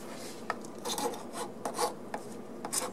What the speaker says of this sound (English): get the worst of it off with a file here, a flat file